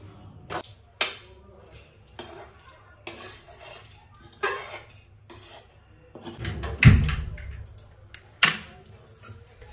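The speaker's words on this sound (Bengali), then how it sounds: "দাঁড়াও, এবার এইটা কুকারের মধ্যে দিয়ে দিচ্ছি।" A cooking pot set down inside a pressure cooker in a home kitchen, giving a few sharp metallic clanks and knocks, one louder thud near the end, over quiet room noise.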